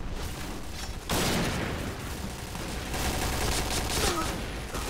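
Gunfire in the online shooter Piercing Blow: a dense burst of rapid shots breaks out suddenly after a quiet second and keeps rattling in clustered volleys, with a player's voice faintly underneath.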